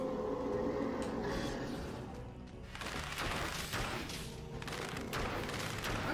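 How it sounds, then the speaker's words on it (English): Grenade blasts and combat in the video game Dead Cells, a dense run of sharp explosive bursts and crackling impacts, thinning briefly and then returning in rapid succession with no voices. "just grenade him in midair so he can't land that shot"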